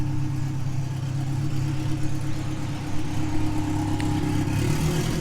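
A turbocharged car engine idles close by, a steady low rumbling hum with slight uneven pulsing and no talking.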